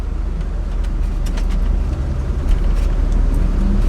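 A diesel pickup truck with a solid front axle drives along as its turbo spools up, a loud continuous engine roar with a rising rush of air, heard close from inside or beside the truck.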